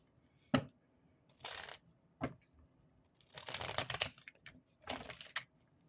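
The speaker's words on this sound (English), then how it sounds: "I heard one more shuffle, so we're gonna do one more shuffle" Several bursts of crisp riffling as tarot cards are shuffled, each lasting about half a second to a second, with quiet gaps between them.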